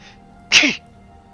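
A single sharp sneeze erupts up close, loud and brief, against a quiet background.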